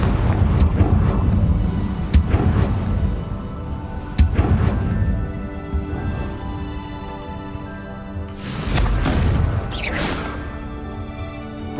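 Confringo blasting-spell explosions from the Hogwarts Legacy video game sound as several loud, booming blasts with crashing debris and rumbling tails, spread across the clip with no talking.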